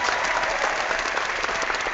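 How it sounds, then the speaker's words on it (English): A canned applause sound effect played during a live tech chat stream, a brief, even burst of crowd clapping with a slightly muffled, band-limited tone. "Just applause."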